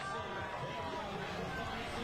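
Crowd cheering near the finish of a college cross country championship race, a steady roar of many voices that holds at one level throughout, with a commentator talking over it.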